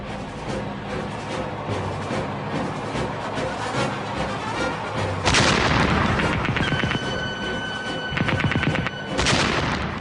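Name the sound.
World War I A7V tank opening fire, gunfire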